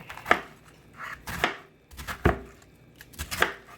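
A knife chopping cabbage on a cutting board, about six sharp separate thunks at an uneven pace, close and clear with no talking.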